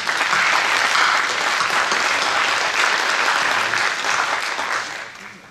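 Sustained audience applause at a Japanese candidates' public debate for a House of Representatives election, Hiroshima 4th district: dense steady clapping from a hall crowd, loud and continuous, tapering off in the final second.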